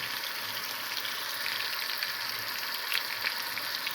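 Steady, dense sizzling of a pork chop frying in a hot pan, loud and close, with a constant crackling hiss throughout.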